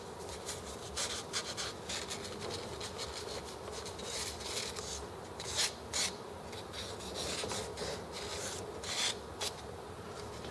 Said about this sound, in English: take the wet or dry sandpaper and do that